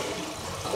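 Water drains out of the tank of an American Standard Champion toilet being adjusted to fix a leak, a steady close rushing and gurgling wash that holds level throughout with no voices.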